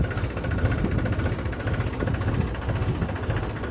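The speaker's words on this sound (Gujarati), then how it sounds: "ટ્રેક્ટર ભાઈ જો સ્લો લીવરમાં એકદમ" A tractor engine idles steadily at low throttle while driving a crop-spraying pump, a continuous low rumble with a faint rhythmic throb and no voices.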